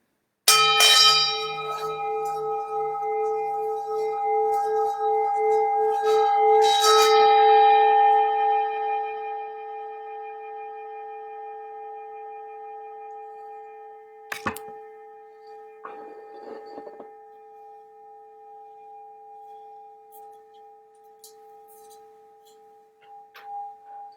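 A bell is struck twice with an all-wood striker, giving a dull wooden knock, each strike ringing out in a long, slowly fading tone, followed by a few faint taps.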